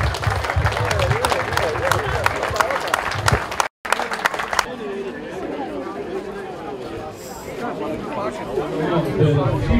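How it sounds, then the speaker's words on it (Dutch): A crowd applauds with dense, steady clapping for a few seconds, which gives way to a general hubbub of chatter and murmuring voices. "ik zeg een geweldig applaus voor deze Philomene."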